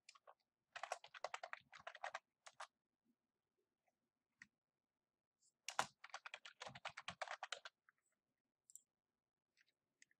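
Typing on a computer keyboard while editing chart titles in Excel, two quiet bursts of rapid key clicks separated by pauses, with a few isolated taps, close and alone.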